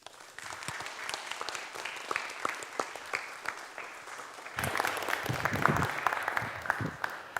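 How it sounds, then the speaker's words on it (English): A lecture audience at the Cambridge Union applauds for historian Antony Beevor, steady crowd clapping that runs throughout and grows noticeably louder and denser toward the end, with no talking over it. "So please can we have a round of applause for Antony"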